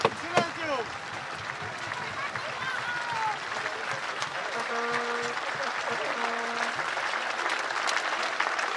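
Steady audience applause fills a sword-fighting show arena, dense clapping continuing throughout with a crowd murmur underneath and a voice speaking over it at times.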